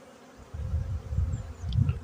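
Honeybees flying in spring around a hive, a close, continuous buzzing hum that swells in low pulses as individual bees pass near, with no one talking.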